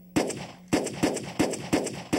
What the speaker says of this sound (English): And our gunfire was computer-generated.